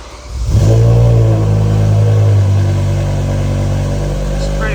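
BMW M6 V10 with cat and resonator delete but factory back boxes fires up on a cold start, a loud close bark settling into a high, steady idle.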